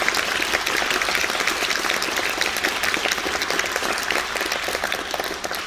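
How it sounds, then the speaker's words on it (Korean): A theatre audience at a National Changgeuk Company performance of Korean changgeuk applauds steadily, a dense, even wash of many hands clapping that holds at a constant level throughout, with no voices over it. "고생하셨다고 혹시 박수 한 번이라도 쳐주시면 어떨까요?"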